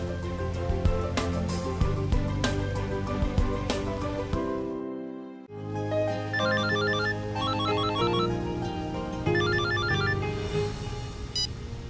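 A telephone rings with repeated electronic trilling bursts during an indoor dinner scene in a Hindi TV serial, heard over background music before and after a brief silence.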